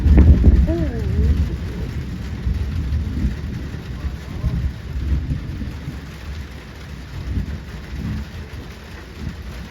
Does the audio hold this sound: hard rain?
yes